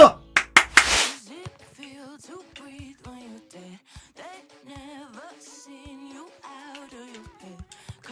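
A short burst of loud hand clapping opens, lasting about a second, then fades into quiet talk during a football match commentary stream.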